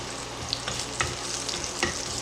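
Cumin seeds and red chilies sauté in hot oil, giving a dense, steady crackling sizzle with scattered sharp pops and a few light spatula knocks, close and continuous.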